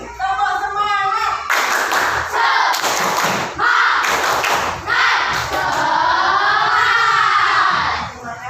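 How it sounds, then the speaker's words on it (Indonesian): A class of children doing the rhythmic tepuk semangat clap to close a lesson, bursts of group clapping and thumps alternating with loud chanted voices, lively and near. "Sekali lagi, tepuk semangat."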